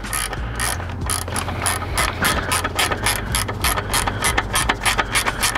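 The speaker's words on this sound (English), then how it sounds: "we're gonna tighten down this clamp here." A ratchet clicks in rapid, steady bursts while tightening an exhaust clamp on a Triumph Tiger 900 fitted with a Scorpion Serket parallel exhaust, close and loud with no talking.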